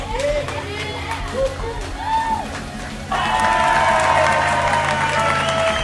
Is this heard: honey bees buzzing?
no